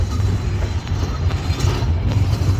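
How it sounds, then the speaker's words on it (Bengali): The Nilsagar Express pulling out of Joydebpur railway station in Bangladesh, a steady loud rumble heard from on board, with low wheel and carriage noise and faint clicks. "ছেড়ে যাচ্ছে জয়দেবপুর রেলওয়ে স্টেশন"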